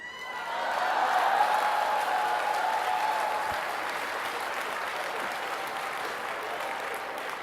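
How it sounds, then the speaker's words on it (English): A studio audience of women breaks into sustained applause mixed with laughter, rising quickly to a loud, dense wash of clapping that holds steady and slowly eases off, with a faint voice briefly audible underneath. "Notice how all the women are laughing and clapping."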